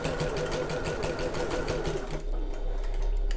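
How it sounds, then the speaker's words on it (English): A domestic sewing machine runs a quick burst of stitches back over the end of a seam on a fabric messenger bag, giving a rapid, steady mechanical chatter that slows and stops near the end. "So I'll just do a few stitches over the end."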